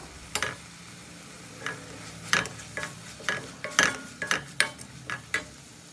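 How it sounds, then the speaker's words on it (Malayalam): Spice powders being sautéed in a pan for a Kerala-style prawn curry with bird's eye chilli: a low sizzle under repeated sharp scrapes and taps of a spoon stirring against the pan, close and irregular. "പൊടികളുടെ പച്ചമണം മാറുന്നത് വരെ നമുക്ക് വഴറ്റി കൊടുക്കാം"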